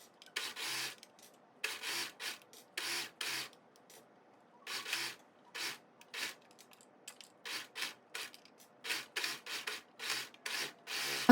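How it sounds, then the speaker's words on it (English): Serger overlock sewing machine stitching shirt seams, close and fairly quiet, running in short repeated bursts of whirring stitches separated by brief pauses. "let's take it back to the serger"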